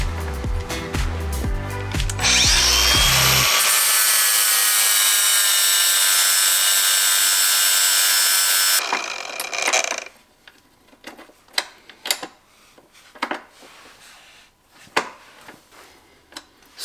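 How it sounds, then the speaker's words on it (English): An angle grinder cuts down a metal foot peg post on an XR400 motorcycle build, a loud continuous abrasive whine lasting several seconds before cutting off, followed by quieter clicks and handling noises. "I'm actually gonna take a grinder out and we're gonna grind off that post just a little bit more"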